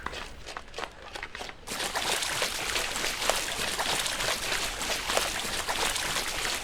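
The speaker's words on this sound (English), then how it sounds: "and even shallow water" Footsteps splashing through shallow water in the Wisplight video game, a steady run of wet trickling steps that grows louder and denser after a quieter start, with no talking.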